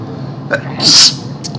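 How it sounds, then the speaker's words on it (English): A single sharp sneeze bursts out in a quiet room, with a brief intake of breath just before it. "sorry, excuse me, I sneezed"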